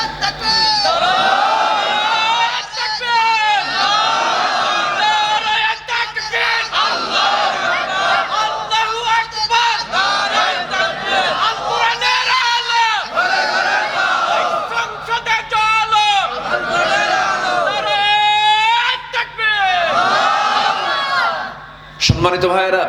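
A crowd at a Bangla religious sermon (waz) chanting slogans in unison: loud, rhythmic bursts of massed voices repeated about every two seconds, with brief gaps between calls.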